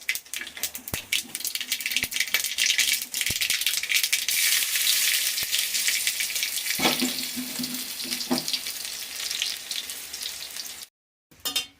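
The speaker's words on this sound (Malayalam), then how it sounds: "അപ്പോൾ നമ്മുടെ കടുക് വറുത്തിട്ടുണ്ട്." Mustard seeds frying in hot oil for a Kerala-style sambar cheera curry, giving a loud, steady crackling sizzle with a few sharp pops, continuous throughout before a brief drop near the end.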